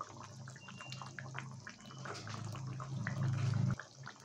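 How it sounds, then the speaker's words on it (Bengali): Mustard fish curry simmers in a pan on a gas flame with green chillies and mustard oil added, giving a faint, continuous bubbling and sizzling with small liquid pops that swell briefly toward the end. "এভাবে আমি 1 থেকে 2 মিনিট একটু ফুটিয়ে নিচ্ছি"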